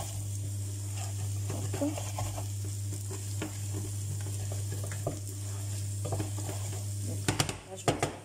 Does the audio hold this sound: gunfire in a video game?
no